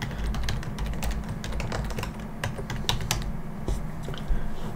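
Rapid, uneven clicking of keys on a computer keyboard as an IP address is typed in, a steady flurry of close taps over a low background hum.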